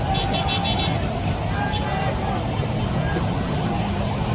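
Heavy road traffic on EDSA, a dense continuous rumble of vehicles with car horns honking, some horn toots standing out early, and voices mixed into the noise.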